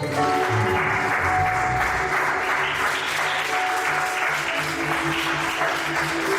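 A congregation at a Sunday church service claps to acclaim Jesus, producing steady, full applause from many hands with faint voices mixed in.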